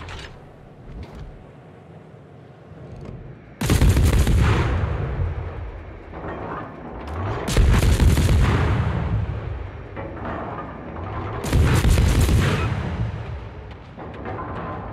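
Warship guns fire in World of Warships, three heavy booming salvos spaced a few seconds apart, each a loud, rumbling blast that slowly trails off, with mechanical creaks between them.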